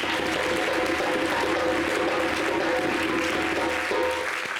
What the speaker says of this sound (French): Est-ce que vous pouvez applaudir vraiment quelqu'un?